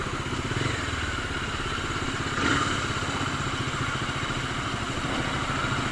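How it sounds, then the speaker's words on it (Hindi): A Bajaj Dominar 250 motorcycle engine runs steadily during a group ride, a moderate, even mechanical drone with a faint rapid pulse and a brief swell midway, with no talking. "बाइक का साउंड अच्छा आ रहा होगा"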